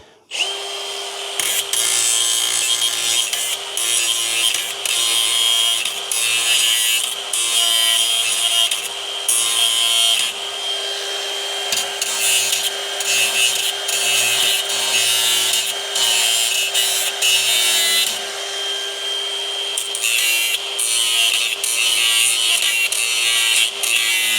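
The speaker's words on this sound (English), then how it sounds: "So I'm going to grind these down a little bit" Power grinder working down metal parts on a second-generation Camaro center console, a loud continuous whine with steady tones and repeated short pauses as the tool is lifted and pressed back on.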